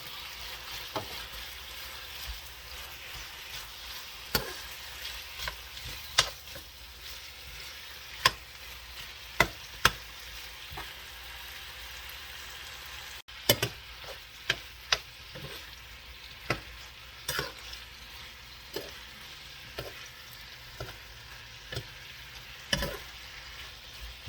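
Onion stir-frying in a pan for a Thai black pepper stir-fry gives a low steady sizzle broken by sharp spatula knocks and scrapes at irregular intervals, close up with no talking.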